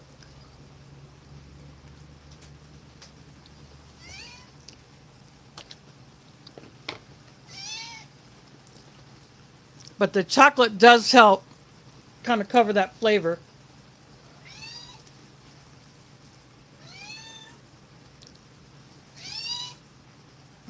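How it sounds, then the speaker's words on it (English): A female house cat meows several times nearby, short rising calls spaced across the scene, with a person talking between them. "I think you can hear my cat meowing"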